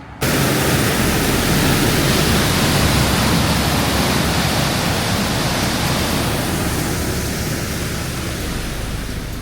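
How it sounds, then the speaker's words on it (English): A man-made waterfall about 20 feet tall, with water spilling over a rock formation in the desert, roars as steady, dense broadband rushing that holds constant throughout with no voices. "it was decided to have the water fall over the rock formation, forming a man-made 20-foot tall waterfall."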